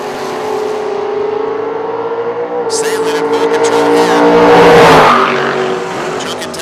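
A Chevy S10 and a 500 cubic inch big block Mopar drag car launch at a footbrake drag race, engines revving then roaring loudly as they pull away, under a track announcer's commentary.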